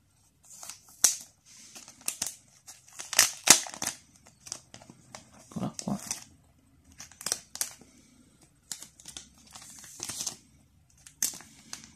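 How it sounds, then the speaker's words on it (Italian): A glass screen protector package for a smartphone is opened in a series of short, close crinkling and tearing bursts of plastic and paper, separated by brief quiet gaps, with no speech. "Apriamo la pellicola"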